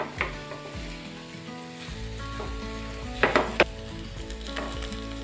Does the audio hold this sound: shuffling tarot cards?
no